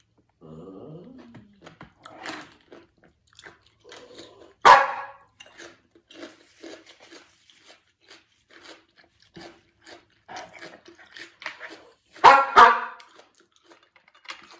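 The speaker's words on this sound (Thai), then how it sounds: "หนูจะเห่าทำไมล่ะ" Small pet dog barking up close indoors, with two loud bursts standing out over softer yaps and scuffling while a woman scolds it.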